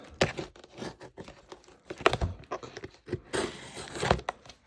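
Taped cardboard packaging of Hot Wheels model cars being cut and torn open, with sharp ripping bursts and crinkling between quieter handling noises, close and uneven in rhythm.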